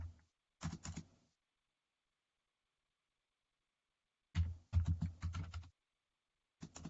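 Quick bursts of keystrokes on a computer keyboard, a short flurry, a long silent pause, then a longer run of rapid clicks and a final brief burst, all close and quiet.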